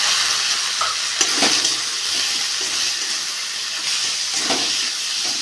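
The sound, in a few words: spice mix with tomato sautéing in pan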